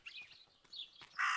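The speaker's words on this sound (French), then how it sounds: "Le corbeau est très agité." A crow in the video game Martha Is Dead caws several times in quick, harsh bursts, the last call loudest and most sustained, with no talk over it.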